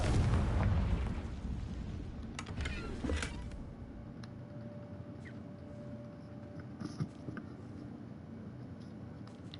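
A Confringo fire spell in Hogwarts Legacy bursts with a loud, rumbling explosion at the start, then decays into a low crackling rumble with a few faint creaks and game ambience.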